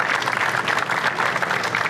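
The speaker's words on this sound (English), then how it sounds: "I think we can have a round of applause for Jim" A crowd at the Waxstock 2019 car-care show gives a round of applause, steady dense clapping filling the whole short stretch at moderate loudness.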